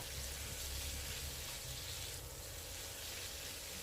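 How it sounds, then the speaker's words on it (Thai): Vegetables, garlic and peeled shrimp stir-fry in a pan for a noodle dish, giving a faint, continuous sizzle with light stirring and no talking. "ตามด้วยผักนะคะชอบกินผักแบบ สุกๆ ก็ผัดนานหน่อยนะคะ"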